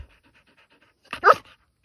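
A dog pants in a short burst of quick breaths, near and fairly loud, after a moment of near silence during obedience training.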